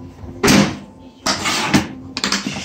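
Lid and latch of a stripped-down ATM cash box, closed and clicked shut in a few sharp metallic knocks and clacks, close up, with brief gaps between them.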